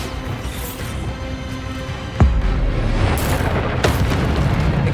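A heavy boom in Hogwarts Legacy as the Bombarda blasting spell explodes, one loud, sudden burst followed by a rumbling tail over steady battle noise.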